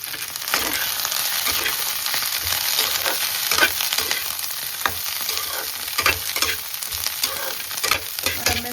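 Onions sizzle steadily in hot oil in a pan as chilli soya is cooked, with a spoon stirring and scraping at intervals, close and loud, without talk.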